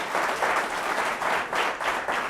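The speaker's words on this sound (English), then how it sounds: "I know you're applauding" An audience applauds after a motivational talk, a sustained, even roar of many hands clapping that pulses slightly in waves and fills the whole moment.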